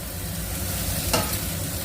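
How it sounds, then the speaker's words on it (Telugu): Onion, curry leaves, potato, carrot, capsicum, tomato and green peas frying in a pan for red rice mixed vegetable rava upma, a steady close sizzle with a brief stirring scrape midway, no talking. "ఆనియన్ కొంచెం ఫ్రై కావాలి"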